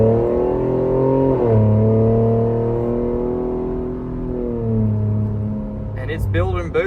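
A Ford Bronco Raptor, recently fixed after a limp-mode fault, drives on the road, its engine humming and shifting pitch through gear changes from inside the cabin, fairly loud and steady.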